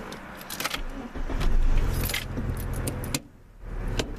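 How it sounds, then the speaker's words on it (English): A car being started with its keys: keys jangle at close range, then the engine catches and runs with a steady mid-level hum, which dips briefly near the end before picking back up. "So first off, we'll start the car."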